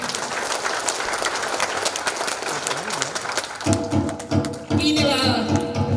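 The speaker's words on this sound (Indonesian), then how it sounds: "Kita tepuk tangan secara meriah." Enthusiastic audience applause at an Indonesian regional election campaign rally, a dense broadband clatter of clapping hands lasting a few seconds before a campaign jingle with music takes over.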